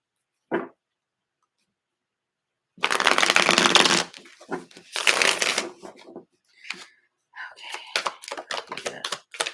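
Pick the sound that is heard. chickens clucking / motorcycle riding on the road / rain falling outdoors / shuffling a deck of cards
shuffling a deck of cards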